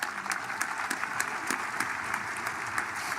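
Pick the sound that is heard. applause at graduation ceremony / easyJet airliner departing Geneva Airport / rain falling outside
applause at graduation ceremony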